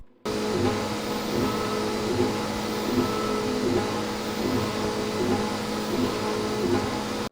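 A 3D printer making parts for drone detectors hums steadily with a whirring motor drone and a faint rhythmic stepping pulse repeating about every half second, close up and constant with no talk.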